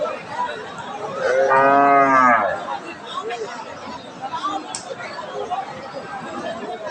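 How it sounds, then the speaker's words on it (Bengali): A large dairy cow lows once, loud and close, a long drawn-out moo lasting about a second and a half amid the chatter and crowd murmur of a rural cattle market. "এটা একটা বেশ সুন্দর বড় সাইজের একটা গাভী"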